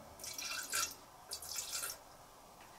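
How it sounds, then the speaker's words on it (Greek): Water poured into flour for a homemade sourdough starter, heard as two brief splashing, trickling bursts close to the microphone with a short pause between them, in an otherwise quiet room. "Δηλαδή, θα ρίξω μέσα το νεράκι"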